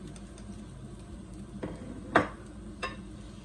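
Thai honeycomb cake fries in oil with a faint, low hiss, broken by three or four sharp clacks of a utensil against the pan.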